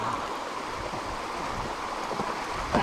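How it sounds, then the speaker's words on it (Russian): A mountain stream rushes through dense forest in the hills near Sibiu, a steady broadband wash of flowing water heard close and continuous throughout, with no voices. "Ручей просто бесконечный."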